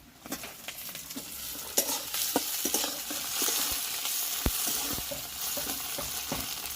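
Onion and chopped tomato with green chillies fry in a hot pan, a steady close sizzle broken by repeated stirring scrapes and clicks of a spatula against the metal, with no voices.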